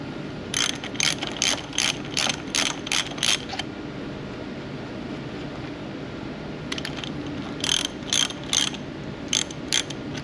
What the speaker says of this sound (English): Handy dandy stud puller. Just slides down over the top and locks on.